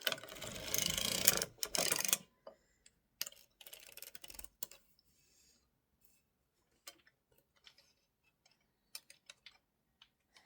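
Erlbacher circular sock knitting machine cranked by hand through thick yarn, a dense ratcheting clatter of needles for about two seconds, then shorter bursts and sparse quiet clicks.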